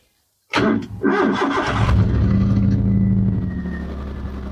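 After a brief silence, a Maruti Alto car engine cranks and catches, then settles into a steady, smooth idle close by.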